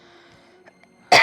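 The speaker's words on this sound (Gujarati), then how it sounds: "હજી ખાંસી સારી નથી થઈ" One short, loud cough bursts out at the very end of a near-silent indoor stretch, from a person whose cough has not yet cleared up.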